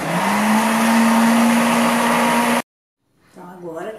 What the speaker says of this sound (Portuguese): primeiro bater um pouquinho os ovos com um pouquinho de leite, porque eu gosto de bater bem os ovos